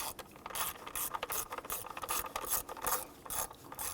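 Ratchet wrench snugging down spark plugs on a 2005-2021 Nissan Frontier 4.0L V6, a rapid run of close, crisp clicking bursts repeating in quick strokes with no talk.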